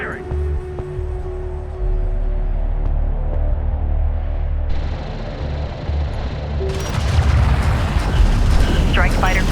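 Weapons fire and explosions from Homeworld: Deserts of Kharak thump and boom close and loud in a low battle rumble, building toward the end, with radio voices speaking over them.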